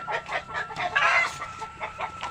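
Chickens cluck in a rapid series of short, close calls with a slightly louder burst midway, no talking.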